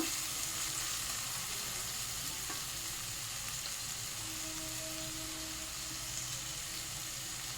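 Tomato for chicken kofta cooks down in oil in a pan, giving a steady, even crackling sizzle close up, with occasional faint stirring scrapes and no talking.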